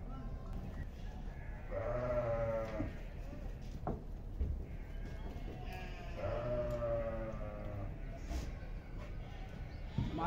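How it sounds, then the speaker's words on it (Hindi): Sheep and newborn lambs on a farm bleat in repeated wavering calls, fairly close, with faint scuffling and someone talking in between. "दो दो बच्चे भेड़ के, दो दो बच्चे दिए हैं जी माशाल्लाह"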